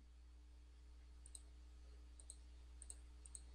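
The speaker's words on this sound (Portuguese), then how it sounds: "Vou clicar aqui." A few faint, sharp computer mouse clicks spaced irregularly over a quiet low hum, close and soft, with a slightly louder click at the very end.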